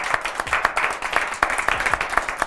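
Audience applause in a French music-news television studio: dense, steady clapping from a crowd that runs through the whole stretch at moderate loudness, with some voices mixed in.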